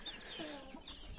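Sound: naked neck chicken clucking

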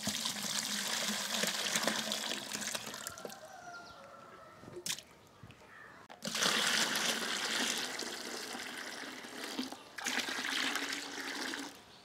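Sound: pouring diluted banana peel liquid fertilizer onto okra plants

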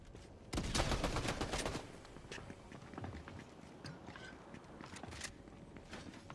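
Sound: gunfire in Fortnite Mobile, video game

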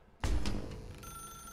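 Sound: telephone ringing, from video game The Stanley Parable

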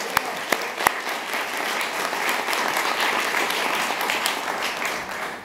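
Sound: graduates applauding the class of 2019

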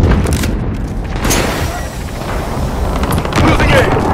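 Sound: precision airstrike explosions in Call of Duty: Modern Warfare, video game

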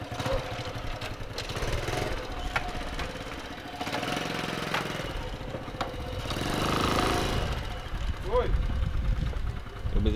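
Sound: motorcycle engine running

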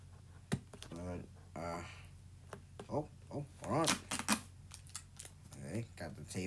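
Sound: tape being peeled off an Xbox headset box

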